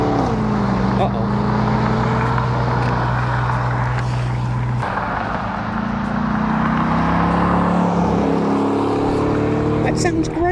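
A 2002 Chevrolet Corvette convertible with a 5.7 liter V8 rumbles past close by, its deep engine note rising and falling as it drives by, with a steady loud roar throughout and brief talk over it.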